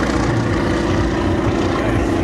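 A Boeing Stearman biplane with a 450 hp radial engine drones steadily at an air show, the propeller and engine noise loud, close and unbroken.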